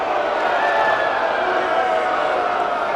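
Boxing crowd at an amateur bout, a steady loud murmur and roar of many voices filling the arena, continuous and unbroken.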